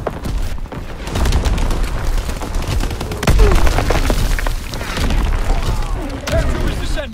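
Artillery battery in a war video game fires in a dense barrage of loud booms and crackling blasts, overlapping continuously with a game voice announcing over the gunfire.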